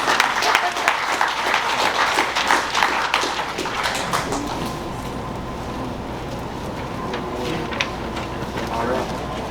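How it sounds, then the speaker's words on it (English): An audience at an FFA banquet breaks into applause. Scattered claps ring out over crowd murmur and talk, with the clapping strongest at first and then thinning into lighter taps. "Everybody give them a round of applause."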